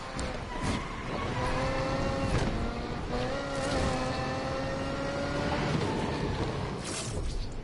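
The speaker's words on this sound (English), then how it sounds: "You hear its little whine it's got there." A car engine in Need for Speed Unbound gives off a steady, tonal whine over a continuous motor drone that shifts slightly in pitch as it revs, heard close and alone.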